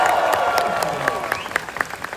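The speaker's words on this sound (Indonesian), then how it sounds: "Coba tepuk tangan." A crowd at an Indonesian comedy show claps loudly and close by. The applause is busy and steady, with some voices and cheers mixed in.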